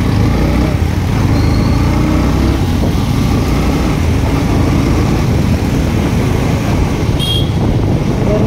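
A motorcycle cruising fast along an open road, a loud, continuous engine drone mixed with steady wind rush, constant and close throughout with no talk.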